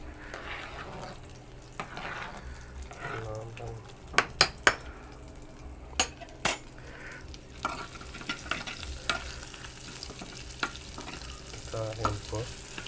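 Spices for an eggplant and coriander chutney crackle in hot oil as tempering. The sizzle runs under sharp clinks and knocks of a spoon against the pan, with a few loud metallic taps in the middle.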